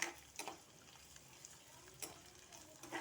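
Small dried fish (nethallu) frying in a pan, giving a faint, steady crackle with a few sharper pops and stirring scrapes, and no voices.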